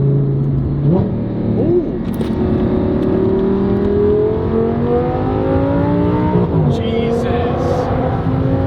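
Audi R8 V10 engine revving loudly from inside the car as it downshifts and accelerates, pitch climbing steadily with a brief dip at a gear change, while people react briefly over it.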